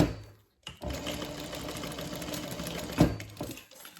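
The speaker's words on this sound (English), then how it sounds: "So I'm gonna go ahead and just top stitch that really quick." Sewing machine top stitching along a zipper edge of a Denver double zip bag, a steady close motor drone of rapid stitches running about three seconds after a short pause, with a clunk near the end.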